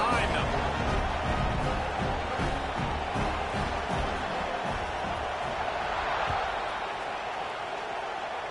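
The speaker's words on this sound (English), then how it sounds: "They're set to kick it off, and this crowd now ready to get behind them." Stadium crowd in an NCAA football video game roars at kickoff as a loud, dense wash of cheering that runs throughout, with a commentator's voice over it.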